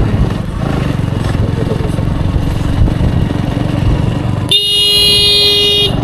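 A motorcycle engine drones steadily up close while riding along a rural route. A sharp, sustained horn blast cuts in near the end and holds for over a second.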